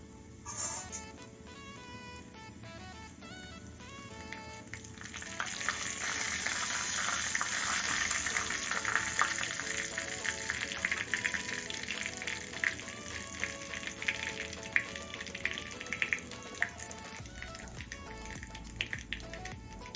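Ajwain and hing fry in hot oil with a soft, steady sizzle and scattered small pops, faint and close, with no talk for twenty seconds.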